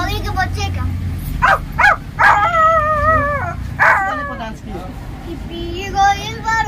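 A puppy gives several short, high yips and whimpering barks in quick bursts, with longer wavering howl-like cries in between, close and clear over a low background hum.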